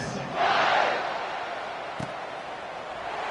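Stadium crowd in a college football video game roars just before kickoff, a broad swell of cheering that peaks early then settles into a steady background murmur, with one sharp thud midway.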